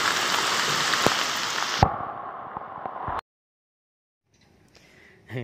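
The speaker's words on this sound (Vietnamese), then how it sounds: "Còn vẫn mưa tiếp tục nữa." Heavy rain pours steadily onto a flooded eel farm, a dense hiss with scattered drops and plops for about three seconds, then it cuts off abruptly to near silence with only faint, distant sounds.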